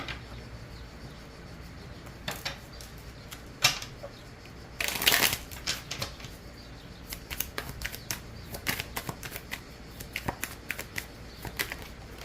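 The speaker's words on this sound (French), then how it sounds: "Et on va prendre deux cartes du tarot pour clarifier" Morgan Greer tarot cards are handled and drawn, giving close, faint papery flicks and snaps with a burst of shuffling in the middle and scattered soft taps afterward, in a quiet room.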